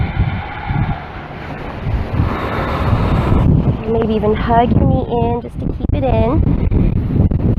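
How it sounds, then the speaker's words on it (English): Strong wind roars and buffets the microphone continuously on the coast of Maui, Hawaii, while someone speaks calmly over it, with surf faintly beneath. "It's really windy today."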